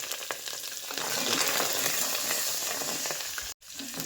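Curry leaves and a little fresh coriander sizzle steadily in hot oil in a pan. The frying hiss is close and continuous, broken by a brief gap near the end.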